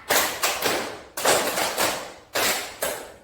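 Elementary classroom children clap a rhythmic pattern together, loud sharp group claps in repeated short bursts of two or three, separated by brief pauses.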